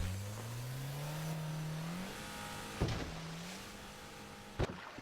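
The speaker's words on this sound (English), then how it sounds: "Durk and Von ditched the boat and went to their car and drove away" Car engine in the GTA 5 video game revving and pulling away, a rising tone that climbs through gear shifts, steady and fairly close, with a couple of sharp knocks near the end and no talk.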